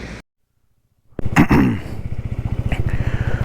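Motorcycle engines starting up and pulling away on a mountain road between Darcha and Manali, a short silence then a rising, steadily pulsing engine throb, loud and close.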